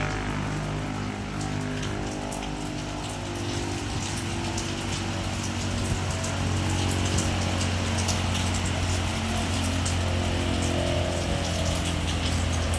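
A storm drives heavy rain and strong wind against a house, a dense, steady roar of falling water that holds loud and unbroken throughout.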